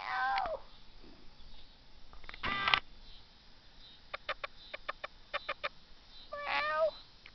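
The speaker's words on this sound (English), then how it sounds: "Come on, meow for me." A cat meows a few times, close and fairly clear, between soft clicking sounds, with no voices heard.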